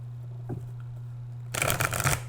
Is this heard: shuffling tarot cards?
yes